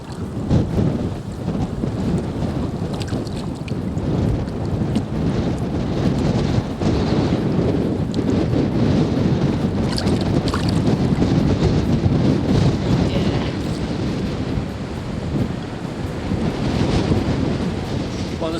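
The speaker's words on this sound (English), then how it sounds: "the wind's still blowing an absolute hooligan here" Strong wind buffeting outdoors at a fishing lake, a loud continuous roar and rumble with gusty swells across the whole stretch.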